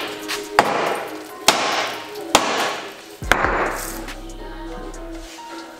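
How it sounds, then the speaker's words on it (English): A heavy hammer strikes a Saab 9-3 subframe during an engine swap, four sharp metallic blows spaced about a second apart, followed by scraping and a low rumbling hum, in a garage with faint voices. "This is how you align the subframe."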